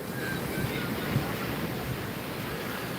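Ocean surf rolls onto a beach in a continuous, fairly loud wash mixed with wind rumble on the microphone, with no distinct breaks and no speech.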